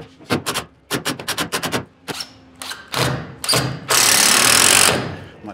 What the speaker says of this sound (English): I'm just putting screws both sides.